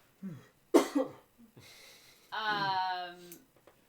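A person coughs several times in quick, harsh bursts, followed by a longer raspy, throaty cough up close.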